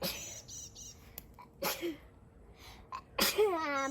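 A single sharp sneeze bursts out outdoors on a street, followed by faint bird chirps and a brief voice afterward, fairly quiet overall.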